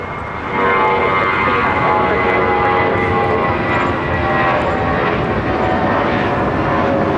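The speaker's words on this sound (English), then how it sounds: "The All Nippon Airways Dreamliner up next." An All Nippon Airways Boeing Dreamliner at LAX gives a loud, steady jet engine roar that holds at close range for the whole stretch, with no voices.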